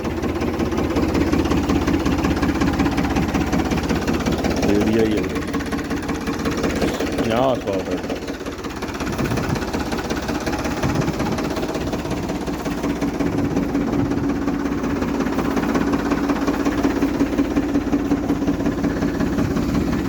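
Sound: Ford tractor engine started and idling

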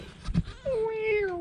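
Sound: tabby mother cat meowing near her kittens

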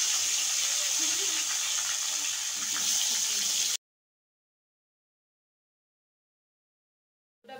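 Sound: potato strips frying in oil

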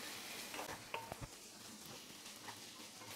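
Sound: sautéing chopped tomato with ginger and garlic

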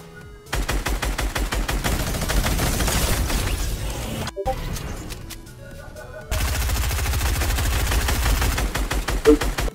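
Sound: minigun firing in Fortnite video game

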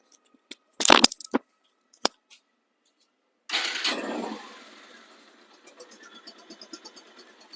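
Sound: Bajaj Pulsar motorcycle engine starting

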